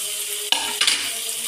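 Cut okra for okra sambar is stirred in a hot pan, with a steady oil sizzle broken by two sharp scraping stirs close up.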